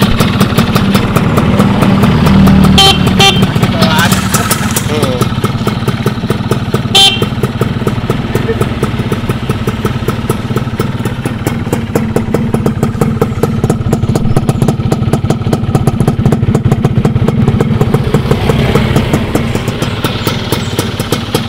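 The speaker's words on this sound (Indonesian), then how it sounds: "Karena itu ciri-ciri ini motor 2 tak Yamaha." A Yamaha two-stroke motorcycle engine idles smoothly at close range, a steady low drone holding evenly throughout with a few faint brief higher blips.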